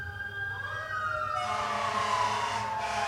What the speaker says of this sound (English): we got sirens today